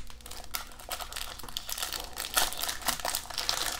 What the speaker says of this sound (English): Rip this one open.